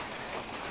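Rain falls in a dense, steady hiss, with no voices over it.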